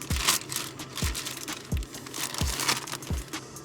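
Plastic Ziploc bag crinkling up close, loud rustles with a few sharp handling thumps repeating roughly every second, no talk.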